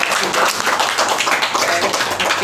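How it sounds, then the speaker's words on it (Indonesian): Clapping from the audience at a KMCI break-the-fast gathering attended by a president, a dense burst of applause with voices mixed in, fairly loud and steady for a couple of seconds. "Oke, tepuk tangan dong buat Bapak."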